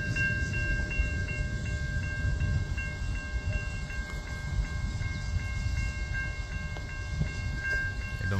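Freight train led by an ATSF warbonnet locomotive with three GE Evolution Series units trailing, rolling through the Craig curves. A steady, loud rumble of engines and cars carries throughout, with sustained tonal whine and squeal from wheels or horns layered on top.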